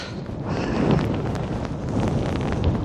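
Strong wind gusts of Storm Darragh at Skegness buffet the microphone near a clock tower, a loud, continuous rumbling roar that swells and eases without any voices.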